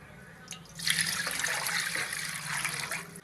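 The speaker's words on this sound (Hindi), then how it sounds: "इसमें 1 लीटर पानी डाल लेंगे।" Water is poured from a container into a kadhai on a stove, one litre in a single steady stream lasting a couple of seconds, close and clear, with a splashing, rushing tone and no talk.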